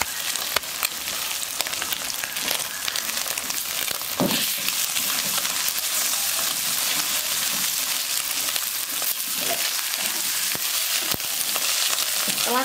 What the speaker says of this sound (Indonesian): kita orak-arik kayak gini. Kita hancurkan ya telurnya.